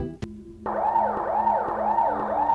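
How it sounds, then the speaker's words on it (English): Police sirens in the EarthBound video game, a sharp click followed by a repeating wailing siren loop that rises and falls steadily in a regular rhythm. "you can probably still hear the police sirens as we speak"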